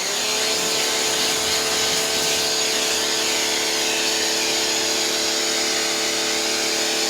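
FOTING 4500 PSI electric pressure washer spraying soap through a suds container on the gun, a loud, constant hissing spray and motor drone held throughout without a break.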